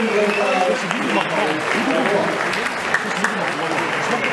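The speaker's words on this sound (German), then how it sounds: "Nochmal euer Applaus für Kai und für Happy." Sustained audience applause at a 1963 amateur boxing bout, a dense steady wash of clapping hands filling the hall while an announcer speaks over it.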